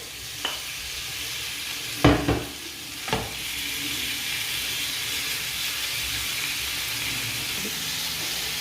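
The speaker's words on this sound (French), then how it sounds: "dans une poêle, je mets un peu d'huile. Et je rajoute la viande hachée" Minced beef fries in oil in a pan with a constant sizzle, broken by a few sharp clatters near the start as the meat is stirred.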